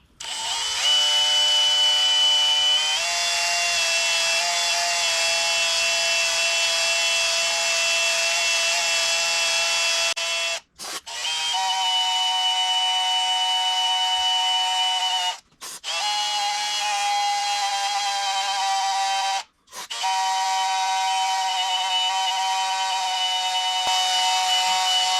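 A power drill spinning a wire brush on an engine whines steadily at high speed in several long runs, stopping briefly three times before spinning up again, loud and close.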